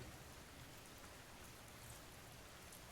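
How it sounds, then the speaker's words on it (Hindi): Light rain falls in a soft, even hiss, faint and distant, with no voices or other sounds over it. "हल्की हल्की बारिश हो रही है।"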